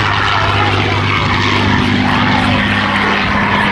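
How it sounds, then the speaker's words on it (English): North American P-51 Mustang flying at an airshow, a loud, close propeller engine roar with a steady low drone and the airy whistling whine from air over its gun ports. "that familiar whine whistle you get there of the air going over the gun ports, just like blowing over the top of a bottle"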